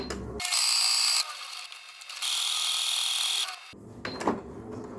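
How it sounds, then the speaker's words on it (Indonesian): A sewing machine, worked without its pedal, stitches doll body fabric in two short bursts of whirring, rasping mechanical noise, each about a second long, separated by brief quiet handling sounds. "Sebenarnya kalau aku pakai pedal aku bisa lebih cepat sih, cuman ini aku lagi latihan aja nih jahitnya nggak pakai pedal"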